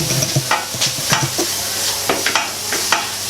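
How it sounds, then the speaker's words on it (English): Garlic, ginger and green chillies frying in a pan, with a steady close sizzle broken by repeated scraping stirs and small pops throughout. "Once you start getting that pop of the garlic and the ginger, you know it's there roughly."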